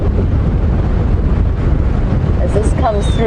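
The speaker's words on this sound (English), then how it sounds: "Having come right here into the open on Buffelshoek Dam, you can hear it gusting away." Strong wind gusting across open water at Buffelshoek Dam in a game reserve, a loud continuous rushing buffet against the microphone, with faint bird calls near the end.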